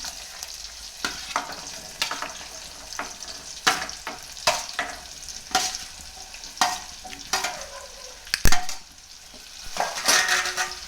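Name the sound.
bitter gourd frying in oil with chilies and tomato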